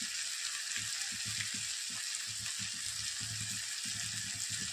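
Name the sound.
ginger garlic paste and besan sizzling in a pan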